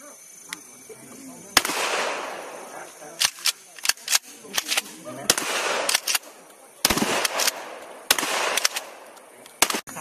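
Firearms drill for village volunteer defence members in Narathiwat, Thailand, with a rapid series of sharp outdoor gunshot cracks, some single and some in quick clusters, spread through the clip with voices between.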